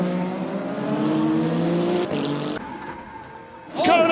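Ferrari 51 hypercar charges past a Cadillac at Spa in a WEC race, engines roaring loudly with rising revs and a sharp gear change, then another car sweeping by close at the end.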